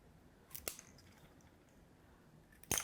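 Scissors snipping plastic drinking straws into short pieces, two quick sharp cuts near the start and another at the end, close and crisp against near silence.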